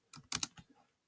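Keys on a computer keyboard are struck in a short burst of about five quick, close taps while code is being typed, with no voices.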